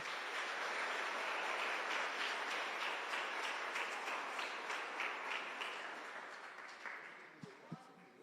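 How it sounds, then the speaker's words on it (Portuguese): Congregation applauding the Lord in a church service, a dense wash of clapping and cheering that holds steady before fading toward the end, with scattered voices mixed in. "Você pode aplaudir o Senhor?"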